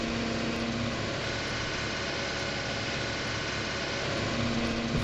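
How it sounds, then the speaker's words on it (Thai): Old vehicle's pump engine idles steadily in Farming Simulator 19, a dense, constant low rumble with no break and no talking. "โอ้ยเสียงปั๊มน่าสงสารมาก"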